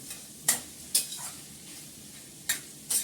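Spices stirred into a frying pan while cooking at home: four sharp scraping stirs over a steady soft sizzle, spaced irregularly, fairly close and with no voices.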